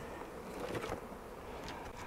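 Bees hum faintly and steadily around a beehive, a soft low buzz over the quiet background for a couple of seconds.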